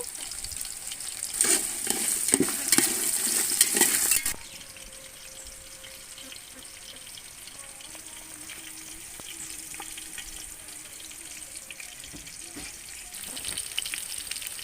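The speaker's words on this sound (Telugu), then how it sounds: "పొటాటో క్యారెట్ ఆనియన్స్ చిల్లీస్ ఇవి కొంచెం ఫ్రై అవనివ్వాలి" Potatoes, carrots, onions and chillies frying on a village wood-fired stove, a loud burst of sizzle and stirring for the first few seconds, then a quieter steady crackle with faint clinks.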